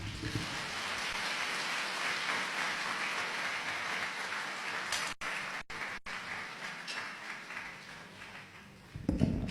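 Audience applause after a guest speech: dense, continuous clapping from a crowd fills the whole stretch, briefly thinning in the middle before swelling again at the end.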